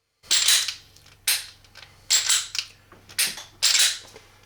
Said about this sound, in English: It's not a bad trigger on this XDM.